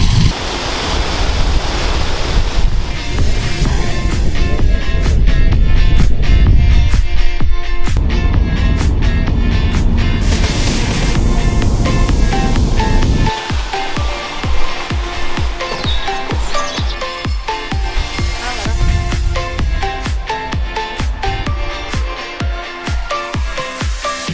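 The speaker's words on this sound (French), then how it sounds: "on se trouve à côté d'une cascade qui s'appelle Ardessie Falls" Ardessie Falls in Scotland pours in a steady, loud rush of water, with gusting wind buffeting nearby. Partway through the roar eases back and leaves a broken, crackling texture.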